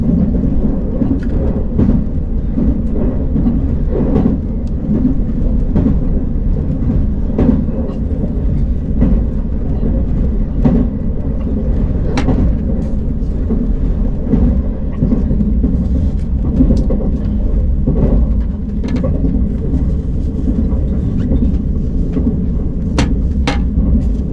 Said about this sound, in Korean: 잠시 후 열차는 조치원역을 앞두고 경부선 미호천 철교를 건넙니다.